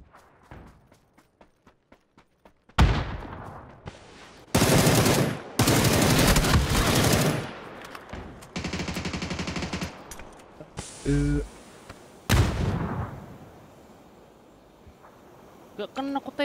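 Bursts of automatic gunfire and single shots in PUBG Battlegrounds ring out loud and close in repeated clusters, with short gaps of quieter game ambience and a voice between volleys.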